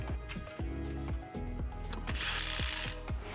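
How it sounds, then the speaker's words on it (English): Impact tool with a 22mm socket driving 14mm bolts into a lower coilover mount on a Ford F250 during a 2.5-inch lift install, with repeated rapid hammering bursts, close and loud, with no talk. "Using a 22mm socket, we're going to install the lower coilover mount using the provided 14mm hardware."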